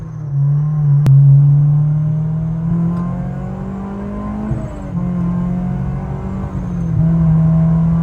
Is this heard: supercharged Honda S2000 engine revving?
yes